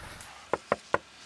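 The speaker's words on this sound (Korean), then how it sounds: "창문을 두드렸어요." Three crisp knocks on a taxi's car window on a mountain road at night, evenly spaced and close over quiet background.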